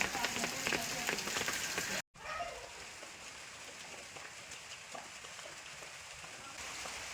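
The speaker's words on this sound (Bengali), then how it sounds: "এই যে বৃষ্টি হচ্ছে।" Heavy rain pours steadily outdoors in a village, a dense even hiss of drops on surfaces, with a brief abrupt break and louder, harsher rain noise at the start.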